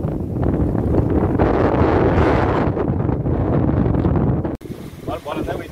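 Strong wind buffets the microphone in a continuous loud roar on an outing among sugar cane mills, briefly dropping out near the end.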